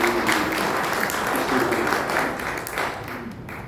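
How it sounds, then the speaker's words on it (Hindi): Audience applause at a literary reading event, a dense burst of clapping that holds steady and then tapers off near the end, with a voice faintly present beneath it. "मैं चाहता हूँ तालियां"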